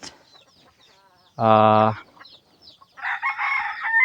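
Chickens in a small backyard coop: a rooster lets out one loud, close crow, followed after a short pause by a burst of clucking from the hens. Nobody speaks.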